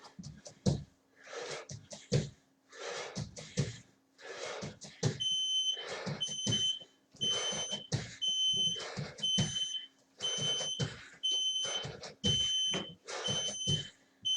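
A workout interval timer beeps with short, high electronic tones in a regular pattern. It sounds over heavy rhythmic breathing and exertion sounds, which come in repeated bursts throughout.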